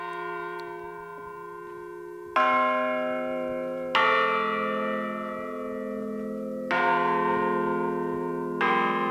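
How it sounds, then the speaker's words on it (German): A new peal of freshly cast church bells rings at the foundry, with several deep bronze strikes coming one after another and each ringing on with long, slowly fading tones, clear and close. "Der Sachverständige lässt das neue Geläute für die Filmdokumentation erklingen."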